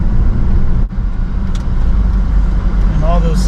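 Steady road and tire noise fills the cabin of a 2007 Dodge Magnum SRT8 while driving, a constant low rumble with no clunks, near and loud throughout.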